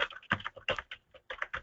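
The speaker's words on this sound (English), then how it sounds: "you can type in your comments here" Typing comments on a computer keyboard: close, crisp key clicks in an uneven rhythm of quick bursts and brief gaps, with no voice.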